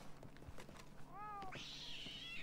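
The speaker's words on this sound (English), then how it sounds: "Hello, cat." A cat in Red Dead Redemption 2 gives a short rising meow followed by a longer, higher drawn-out meow, heard over soft background clicks and ambience.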